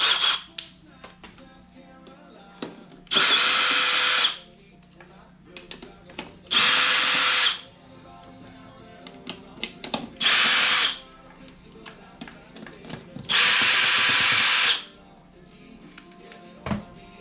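Cordless power drill spinning off tight lug nuts from the wheel of a 2001 Yamaha Warrior 350 ATV: four loud, sustained whirring bursts separated by clinks, ratcheting and handling noises, close up.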